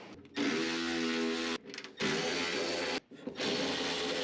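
Whirring power driver spinning out 10 mm bolts from a Toyota pickup's window regulator, three sustained loud bursts separated by short pauses, close up with no talking.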